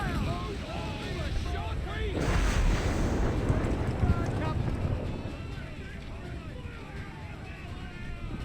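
Ship cannons booming in Assassin's Creed 4 Black Flag during a naval fight, a dense rolling barrage of heavy blasts with rumble and wind-like roar, loudest around the middle and continuing throughout.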